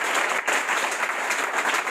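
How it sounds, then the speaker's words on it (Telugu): Congregation applause during a church sermon, a thick continuous round of clapping that fills the space evenly from start to finish, no voices over it. "కొట్టండి చప్పట్లు"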